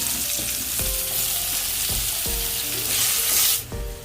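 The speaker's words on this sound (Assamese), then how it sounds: "পিঁয়াজৰ ৰংটো সলনি হোৱালৈকে অলপ সময় এনেদৰে ভাজি ল'ম।" Onions frying in a dark, well-used kadai with dried red chillies, a steady loud sizzle with periodic scraping stirs, close by and without speech.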